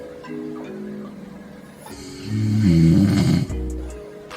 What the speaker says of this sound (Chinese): 如果鼾声均匀，像这样，